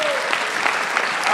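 Church congregation applauding together, a steady dense wash of clapping filling the room throughout, with faint voices underneath.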